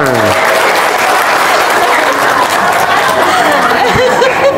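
Studio audience applause at an Indonesian comedy talk show, loud continuous clapping that fills the whole stretch, with light chatter and a few chuckles mixed in.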